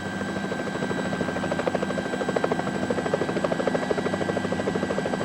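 A mountain rescue helicopter close by, its rotor thumping in a rapid steady pulse over a loud droning engine whine, with no talking.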